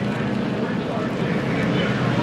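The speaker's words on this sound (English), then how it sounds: "they have sent one of the jet dryers out down toward turn one to try and work on the track" A jet dryer blasts across a rain-soaked NASCAR track, a loud, steady roaring whoosh heard up close and unbroken throughout.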